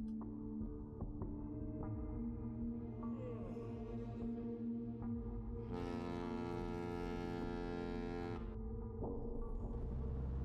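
A ship's horn sounds in Vampire The Masquerade: Bloodlines, a deep, sustained blast of about three seconds rising over a steady low engine hum and rumble, fairly quiet overall.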